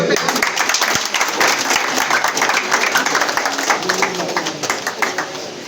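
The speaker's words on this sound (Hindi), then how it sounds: "सभी से एक बार जोरदार तालियों से" Enthusiastic applause from a crowd of residents at a political campaign event in Meenakshi Garden, West Delhi, dense clapping that holds steady for several seconds before easing slightly.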